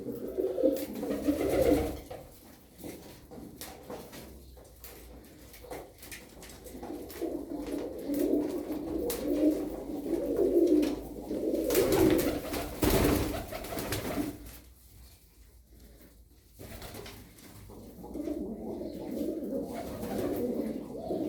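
Tumbler pigeons coo repeatedly nearby, low throaty calls overlapping in a steady chorus, with a brief clatter of movement partway through.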